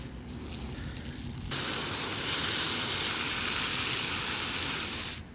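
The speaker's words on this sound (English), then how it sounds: "And now we water this from the top." Water poured from the top over potting soil in a self-watering bucket planter, a loud, continuous gushing rush that swells after the first second and runs steadily for several seconds.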